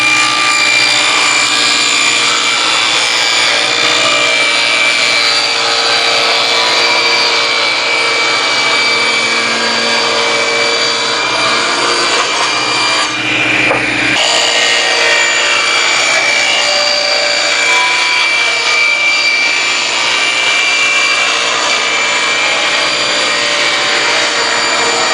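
A power saw cuts plywood, crosscutting and then ripping 2.5-inch strips for the stiles of a lumber storage cart. The saw roars loud and steady for the whole stretch, with one brief dip partway through. No one talks over it.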